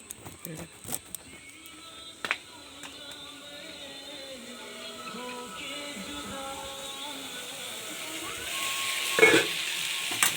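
Mango chutney sizzles and fries in a pan, a steady soft hiss with occasional stirring clatter and faint voices in the background.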